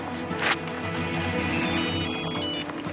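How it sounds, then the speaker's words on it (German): A mobile phone rings with a repeating electronic ringtone melody, moderately quiet indoors, after a brief rustle at the start. "Entschuldige, mein Handy."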